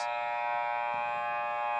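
A game clock buzzer sounds at the end of a quarter in a high school boys' varsity basketball game, a steady, loud electronic drone held through the whole moment over faint gym noise.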